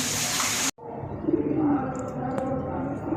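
Malwai Punjabi pigeons give low coos after a short burst of loud rushing noise that cuts off abruptly, with other rustling and a faint voice nearby.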